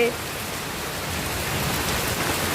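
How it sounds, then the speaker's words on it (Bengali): Steady night rain falls on surfaces outdoors among wet garden plants and flower bushes, a close, even hiss of dense drops with no pauses. "এখন একদম সুন্দর বৃষ্টি পড়তেছে"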